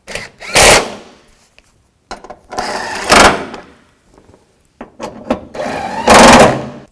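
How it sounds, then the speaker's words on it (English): A power tool tightens bolts during front strut assembly work on a 2004-10 Toyota Sienna, sounding as three loud, close bursts of buzzing whir separated by quiet pauses and faint clanks. "tighten down the bolts"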